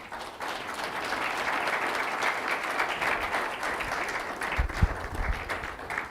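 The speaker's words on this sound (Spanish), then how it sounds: "Dale un aplauso al Señor." A church congregation claps together in warm, continuous applause, a full room of hands sustained throughout with a few louder low knocks near the end.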